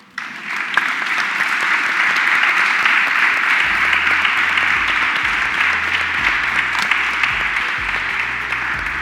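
Audience applause at the Second Congress against Islamophobia, a steady dense wash of clapping from a full hall that starts abruptly and holds loud and even for about nine seconds, with faint low rumble underneath.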